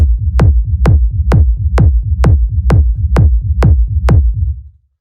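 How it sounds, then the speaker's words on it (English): A deep techno kick drum pounds in a steady four-on-the-floor pulse, about ten hits, each trailed by a low rumbling tail, loud and alone. "So this kick is a pretty straightforward, techno sort of rumble kick"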